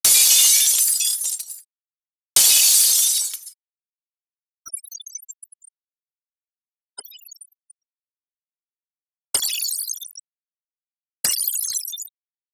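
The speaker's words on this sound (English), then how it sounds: "And here's some glass smashing." Glass smashing in several separate bursts: two long bright crashes, two fainter tinkling scatters of falling shards, then two more sharp shattering hits, each alone with silence between.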